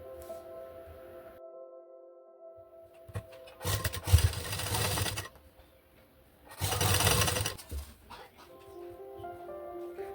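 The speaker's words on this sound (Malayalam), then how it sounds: "എന്നിട്ട് ഇതേപോലെ തിരിച്ചിട്ടിട്ട് നമുക്കൊന്ന് പതിച്ച് സ്റ്റിച്ച് ചെയ്ത് കൊടുക്കാം." A sewing machine topstitching the front neckline of a top whirs in two separate runs of about a second or so each, close and clear against a quiet room.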